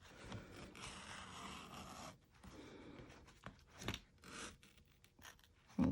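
Scissors snip and scrape through fabric stabilizer while trimming the top of a skull-head zip bag, a steady close rasping cut for two seconds followed by shorter separate snips and rustles, with no talking.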